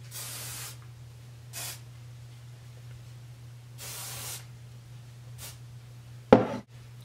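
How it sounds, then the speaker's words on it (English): Heat protectant spray mists onto hair in four short, soft hissing bursts separated by quiet gaps, close to the microphone over a low steady hum, followed by a brief knock near the end. "I'm gonna spray it with the heat protectant"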